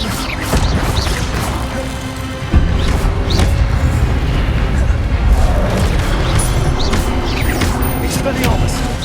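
Expelliarmus spell casts in Hogwarts Legacy land as loud booming whacks and crashes within continuous dense combat noise, a sharp impact around the middle of the stretch, with a voice shouting spell names.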